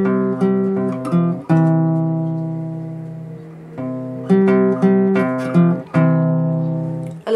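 Acoustic guitar plays the second part of the intro, with a few plucked notes followed by long ringing sustained tones. The guitar is close and clear and no one speaks.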